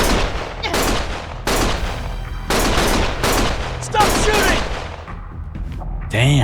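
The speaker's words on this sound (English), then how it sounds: "Stop shooting!" Gunfire in the video game Lost Judgment comes as loud, close bursts of sharp shots and rattling volleys in repeated clusters, with a voice heard briefly near the end.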